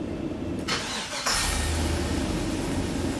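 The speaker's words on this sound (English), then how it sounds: "So now let's go and start the engine." A Chevrolet Express van engine cranks briefly, then catches and settles into a steady idle, heard close and clear.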